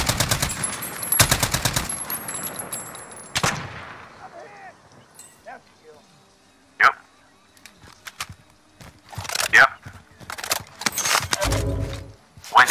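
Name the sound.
machine gun fire in Call of Duty Warzone video game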